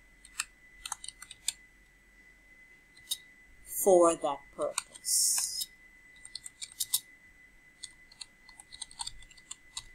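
Scattered clicks of typing on a computer keyboard, irregular and fairly close, with a brief stretch of speech and rustling in the middle.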